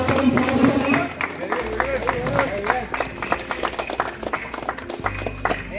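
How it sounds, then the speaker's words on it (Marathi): An audience at a local cricket premier league award ceremony in Goulvadi, Tala, claps for the emerging player award, scattered applause pattering throughout while a voice speaks over it. "एका जोरदार टाळ्या वाजवूया या महत्त्वाची खेळाडूसाठी"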